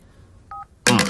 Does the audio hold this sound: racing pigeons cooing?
no